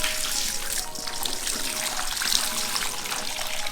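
Dirty water from a car cleaner's recovery tank pours out in a continuous splashing trickle, steady and fairly close.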